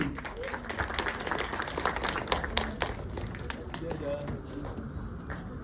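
Theatre audience applauding as an actor from Varshangalkku Shesham is called up, steady dense clapping throughout with a voice talking over it.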